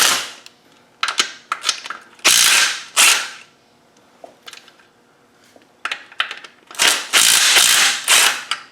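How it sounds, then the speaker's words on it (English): A ratchet on a universal-joint extension loosens bolts on a TDI engine during removal, giving bursts of rapid clicking strokes separated by short pauses, close and fairly loud. "This is why this little universal drive is so nice."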